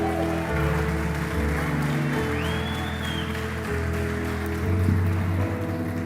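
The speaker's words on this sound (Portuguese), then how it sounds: "aplauda Ele nessa noite." A church congregation applauds during a Sunday service, a rain-like patter of clapping that runs under sustained keyboard or organ chords played throughout.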